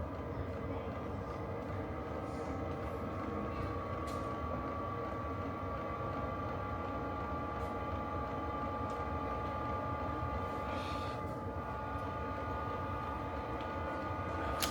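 A diesel heater fuel pump runs inside a DIY mini truck camper as a steady, low mechanical drone with a faint hum line. It continues without pause, and no one talks over it.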